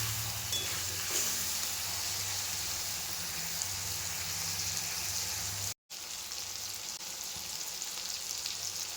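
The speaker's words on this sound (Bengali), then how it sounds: "পেঁয়াজগুলো একটু হালকা লাল লাল হয়ে আসবে, ততক্ষণ একটু নাড়িয়ে নিচ্ছি।" Sliced onions sizzle in hot oil in a pan while being stirred until lightly browned. A continuous close frying hiss with soft stirring is broken by one abrupt silent gap.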